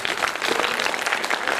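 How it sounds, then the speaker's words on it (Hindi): A crowd at a Hindu Bhagwat Katha devotional gathering claps together in a brief, dense burst of applause, moderately loud and close, with no one talking over it. "जोरदार ताली बजाओ"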